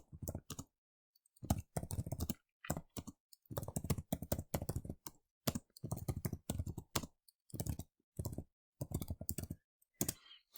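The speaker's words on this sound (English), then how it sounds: "So I'm going to type my name." A name being typed on a computer keyboard: steady runs of sharp, close keystrokes in quick bursts with brief gaps, fairly quiet overall.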